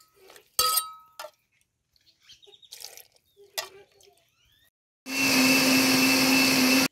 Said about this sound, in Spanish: Ya voy a empezar a moler, echar el vaso en la licuadora